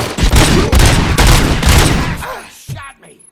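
Dense, loud gunfire in the RoboCop Rogue City video game, overlapping rapid shots in a heavy barrage that thins out to a few scattered shots at the end.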